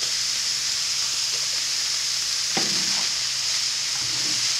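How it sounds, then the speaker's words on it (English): A sloppy joe mixture stirred in a pan under a steady sizzling hiss, with a few soft scraping knocks from the spoon and no talking. "I'm going to mix it all together"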